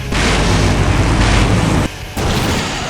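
A huge explosion goes off in the Full Throttle adventure video game as a loud, sustained rumbling roar that cuts off sharply. A softer rumble follows and continues to the end.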